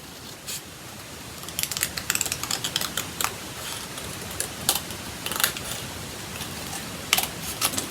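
Scissors cut around a shape in paper card for a pop-up rainbow card, a close, quiet series of crisp snips and crunches in irregular clusters.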